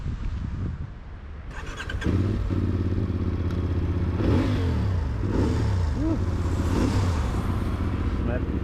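A CFMOTO 450 MT adventure motorcycle idles and then revs up close by, a steady engine drone swelling with throttle blips, while people talk over it.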